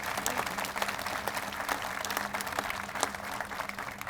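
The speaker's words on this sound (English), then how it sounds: "Please, round of applause for them." Steady, fairly faint applause from a crowd at an outdoor county courthouse grand opening and ribbon-cutting ceremony, honoring county officials, a dense patter of many hands with no voices over it.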